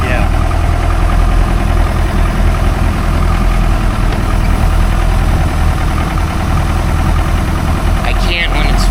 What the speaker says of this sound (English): You want me to start the other engine?